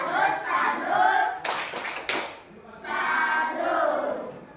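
An elementary school class performs a rhythmic clapping chant, voices chanting together in unison around a burst of sharp, quick group claps in the middle, loud and close in a classroom.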